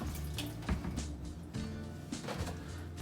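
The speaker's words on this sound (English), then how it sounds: "And then rinse my hands." Tap water runs steadily while hands are rinsed at a kitchen sink during home cooking prep, a continuous close splashing with small drips and no talk.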